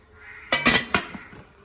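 A lid clatters onto a steaming tray while Pesaha appam, the Maundy Thursday rice bread, is set to cook, giving a few close metallic knocks and rattles in quick succession over quiet room background.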